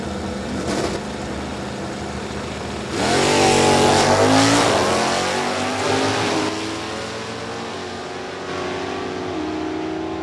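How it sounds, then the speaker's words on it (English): Drag racing Camaros at Beech Bend Raceway, including a four-speed 396 1968 car and an automatic 350 1970 car, roar off the line with loud rising engine revs and gear changes, then fade down the strip amid a steady crowd-and-engine din. "Row your own race car. 4-speed, 396, 68 Camaro."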